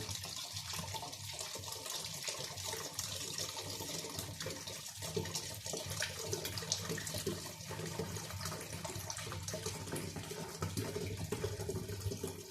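Homemade cherry wine made from fruit juice is poured out of a jar in a continuous, gurgling liquid splash, steady and fairly soft over the whole stretch.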